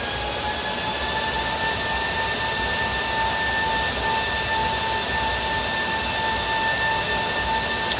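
A Lincoln Electric Power Wave 300c welder powering up, giving a loud, steady, jet-like whine with sustained high tones over a constant broadband rush, unbroken for the full stretch.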